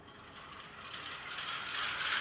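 A model train locomotive's sound-equipped diesel engine is switched back on from an MRC Prodigy Advance DCC controller, giving a faint steady mechanical rumble that swells slightly over about two seconds, with no talk.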